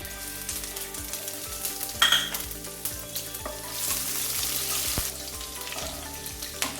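Chopped onion frying in oil seasoned with five-spice seeds, a loud close crackling sizzle with scattered pops and stirring scrapes, running unbroken without any voice.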